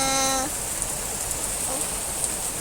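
Rain pours down during a long wet day in San Rafael, Bulacan, a constant broad hiss of falling water that carries on after a brief tonal sound at the start.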